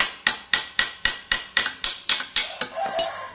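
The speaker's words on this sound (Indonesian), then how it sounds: "Biasanya kalau sudah dipukul-pukul seperti ini" A hammer strikes a used motorcycle part about a dozen times in a steady rhythm, each sharp metallic knock ringing briefly, with the blows growing slightly duller toward the end.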